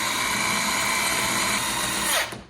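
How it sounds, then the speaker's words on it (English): A power drill bores a large hole into a brand-new Dodge Charger, a loud steady whine held close for about two seconds before the bit stops and the motor spins down. "All right, we gotta drill the big holes."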